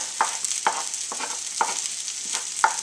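Bacon and garlic fried rice sizzling in a hot pan, a constant bright hiss broken by several sharp scrapes and clicks of stirring, close and loud, with no talking.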